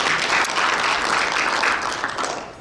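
Audience at a Christian leaders' representative meeting breaks into sustained applause, a full, steady clatter of many hands that fades slightly at the end.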